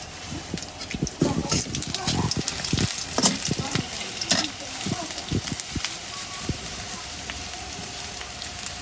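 Spice paste with onion, garlic and green chilli frying and being stirred in a pan, a steady close sizzle with scraping stir strokes, a voice talking over it now and then.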